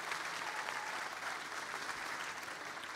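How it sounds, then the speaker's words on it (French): Sustained applause from an audience honoring hospital staff at a mayor's New Year address in Béthune, a steady, dense wash of clapping at moderate distance without pause. "Oui, on peut applaudir parce qu'ils font un métier difficile."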